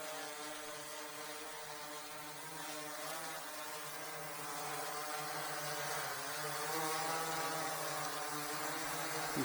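H520 drone motors spin up for takeoff with a steady, multi-toned buzzing whine that rises slightly in pitch and loudness as it lifts off, continuous and fairly close with no talking.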